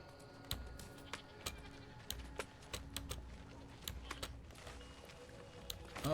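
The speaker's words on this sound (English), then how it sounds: "Oh, pushy goat." A goat in the game New World gives a few short bleats over a quiet backdrop. Repeated sharp clicks like keyboard typing tick away steadily throughout.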